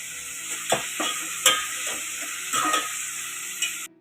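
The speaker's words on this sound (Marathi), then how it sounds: "भाजी फोडणीला घालते फोडणीला घातलं मी कढीपत्ता आणि बारीक चिरलेला कांदा" Curry leaves and finely chopped onion sizzle in hot oil, steady crackling filling the clip, with a few soft stirring scrapes and clicks breaking through.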